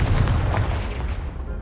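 A Confringo fire spell explodes in the video game Hogwarts Legacy, blasting a pile of debris that blocks a stairwell: a loud, deep, rumbling burst that fills the whole moment with no talk over it.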